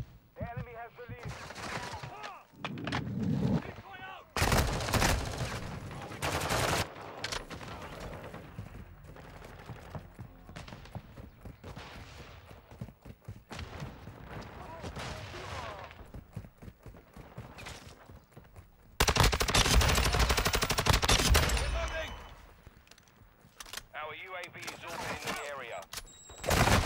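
Rapid rifle and machine-gun bursts in a multiplayer shooter video game crackle over a busy battlefield, with loud clustered volleys near the start and a sustained heavy barrage later, mixed with game voices and effects.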